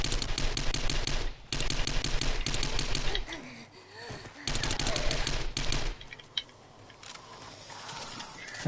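SMG gunfire in 7 Days to Die, several long rapid bursts of close, loud automatic shots separated by short pauses, with quieter rustling and a faint creature noise between them.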